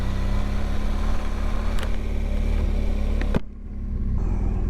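Motorcycle engine running steadily close by near Walton Spire, a low idling drone with a brief thump before the noise drops away and then slowly builds again.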